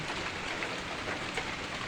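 Steady rain falling outdoors around a hut among trees, a dense even hiss of drops heard alone at moderate loudness for two seconds.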